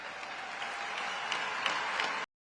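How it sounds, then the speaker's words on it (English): An audience applauding a political address, a fairly soft, even patter of many hands clapping at a distance that cuts off abruptly at the end. "The crazy thing is people are clapping for it, folks."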